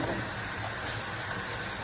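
Steam hisses steadily from a pot of Jamaican-style steamed vegetables such as cabbage, a constant broadband rush heard close with no talking.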